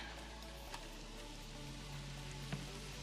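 Heavy rain pours outside as a constant broadband patter, with a couple of sharper drips or taps standing out against the steady wash; no one speaks.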